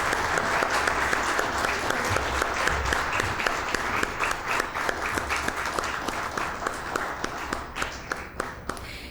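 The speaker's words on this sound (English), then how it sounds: "Let's clap for them." Audience applause at a PG diploma program convocation ceremony, a dense, steady wash of many hands clapping for about nine seconds that thins slightly toward the end.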